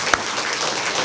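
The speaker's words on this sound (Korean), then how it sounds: "우리 찬양대에게는 감사의 박수를 드립시다." A church congregation at a Sunday worship service claps in thanks for the choir, a full, steady round of applause from many hands with one sharp clap standing out near the start.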